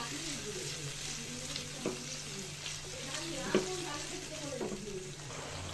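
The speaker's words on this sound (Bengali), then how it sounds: "সব কিছু দিয়ে ভালো করে কষিয়ে নিব।" Spice paste with ground nuts sizzles and fries in a pan for a home-style chicken roast, a steady soft crackle with occasional scraping stirs and light clinks of the spoon, fairly quiet and close.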